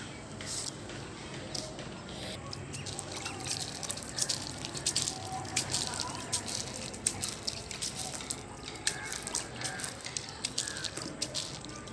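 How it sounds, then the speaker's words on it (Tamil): Water sprinkled by hand over the underside of a cloth spread with drying rice koozh vadagam on a rooftop, giving a run of soft, scattered drips and patters that carry on steadily at close range with no talk. "இந்த மாதிரி எங்கெங்கே போட்டிருக்கோமோ அந்த இடத்துலலாம் தண்ணி தெளிச்சுக்கோங்க"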